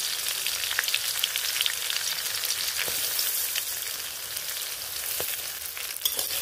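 Pulao rice grains crackle and sizzle in a hot pan with cumin, green chillies and bay leaves, a steady, close frying hiss and occasional sharp pops, no voices.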